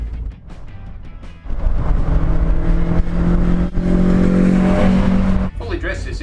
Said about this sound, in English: This GT has been fitted with a 118 horsepower Rover engine and a Toyota 5-speed gearbox.